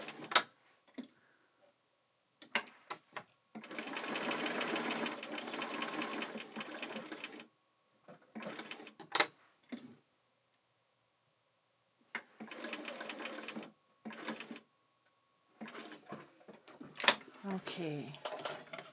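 A sewing machine stitches around an appliqué star on a bell bag, running in several separate bursts with pauses between, one long run near the start and shorter runs later, with brief handling noises in the gaps.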